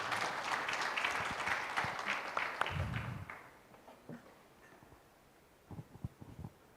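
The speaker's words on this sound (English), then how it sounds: "please give them a round of applause for the panelists." An audience at an agriculture roadmap launch event applauds the panelists, clapping strongly at first and then fading to scattered claps and faint room noise.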